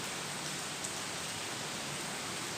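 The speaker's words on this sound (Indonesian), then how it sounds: "cuaca di Kota Banda Aceh masih dalam keadaan gerimis." Light drizzling rain in Banda Aceh city during flooding, a soft, steady, even hiss with no voices.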